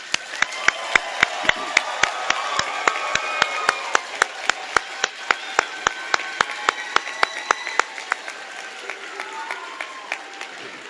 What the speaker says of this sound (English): Please join me in a round of applause for all of our graduates.